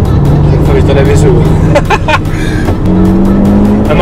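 A Kia hatchback driven hard around the Slovakiaring race circuit, its engine droning loud and steady throughout with a shift in pitch partway, heard from inside while people talk over it.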